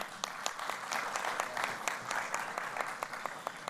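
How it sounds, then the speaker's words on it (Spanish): Audience applause at a Pansexual Pride Day forum, a steady patter of many hands clapping at moderate distance, continuous through the clip with no talk over it. "Un aplauso para Misli, por favor"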